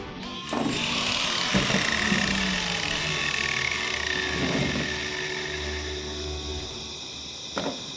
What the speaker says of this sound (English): Now I'm switching to a grinding head so that we can go ahead and get these ground down to the metal